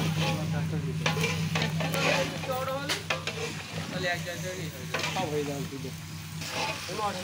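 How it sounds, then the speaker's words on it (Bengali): Potatoes fry with salt and spices in a large pot for village wedding cooking, a constant close sizzle broken by scraping stirs and clinks of a metal spoon against the pan. "এখন আলুটা ভাজা ভাজা করে কষাতে থাকবে।"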